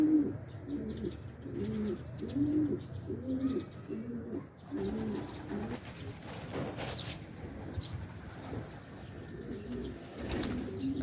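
Quetta pigeons in Pakistan coo in repeated soft rolling phrases, a run of rhythmic calls followed by a pause and a few more coos, with light rustling and faint wingbeats.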